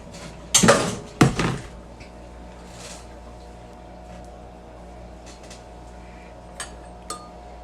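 A spoon clanks loudly against a mixing bowl of jam cake batter, two sharp knocks near the start, then quiet stirring with a few faint clinks toward the end.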